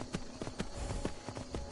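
Horse hooves clip-clopping in the video game Skyrim VR, a quick, even run of soft thuds at moderate volume with no talk over them.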